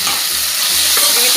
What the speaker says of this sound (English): Now we'll add the tomatoes. Mix them well.